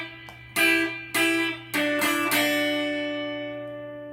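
Guitar phrase in a guitar lesson, alone with no voice: a soft pluck, then four strong picked notes in quick succession, the last ringing out and slowly fading.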